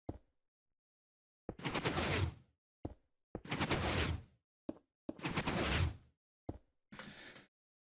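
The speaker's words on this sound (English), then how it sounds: "every time the trees get to this end and cover this end block, all those pistons will fire" Minecraft pistons firing in a redstone oak tree farm, four bursts of rapid mechanical clacking, each about a second long with short single clicks between, close and fairly loud against silence.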